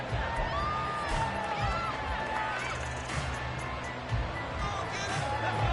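Football stadium crowd at a Buccaneers versus Falcons game, a steady broad murmur of many voices with occasional swells, heard under a commentator's voice throughout.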